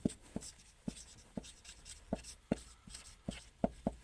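A pen writes by hand on paper as a chemistry example is worked out, giving quiet, irregular strokes and taps close to the microphone with no voice over them.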